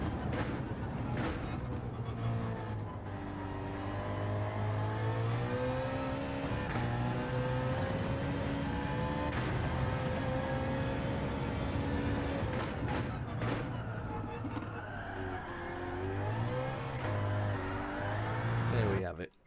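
A BMW engine revs and drones continuously with rising and falling pitch, loud and sustained throughout.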